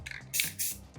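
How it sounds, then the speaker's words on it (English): White aerosol spray paint released in two short hissing test bursts out to the side, close and crisp, with a faint rattle before. "A little test spray out to the side is always a good idea."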